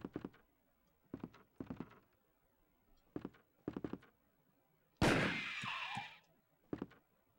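A single loud gunshot in the Resident Evil video game rings out sharply and decays over about a second, with quiet footstep-like thumps before and after.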